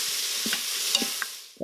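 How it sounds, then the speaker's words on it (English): Onions and garlic sauté in an Instant Pot, giving a steady close sizzle with a few soft utensil knocks and stirring scrapes. There is no talking. "you'll hear that it's gonna sizzle and melt up"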